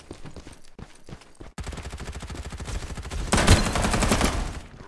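Rapid automatic gunfire rattles in the Farlight 84 shooter game, starting in short bursts and then running as a fast continuous stream that grows louder toward the end.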